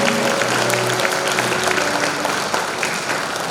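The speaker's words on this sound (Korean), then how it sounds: "한번 박수 부탁드리겠습니다." An audience claps at a pharmacists' association training event in a hall, a dense, sustained round of applause that fades slightly toward the end, with a voice faintly audible near the start.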